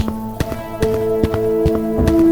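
A horse following the player in a horror video game trots with steady hollow clip-clop hoofbeats, close and fairly loud over a sustained tonal game soundtrack.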